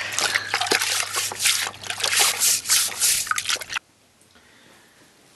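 Water trickles and splashes steadily while stones are washed by hand, a close, busy liquid sound of dribbling and sloshing that stops abruptly near the end, leaving near silence.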